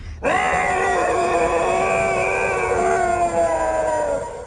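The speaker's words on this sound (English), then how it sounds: "it let out with a wailing, guttural howl." Dramatized Bigfoot cry: a loud, sustained wailing, guttural howl with a strained, screaming quality, holding steady for about four seconds before cutting off, alone with no talk.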